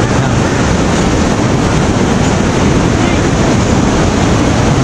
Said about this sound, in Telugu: పార్వతీ రివర్, ఆ పైన డ్యామ్ వదిలిన వాటర్ మొత్తము ఇక్కడ వస్తుంది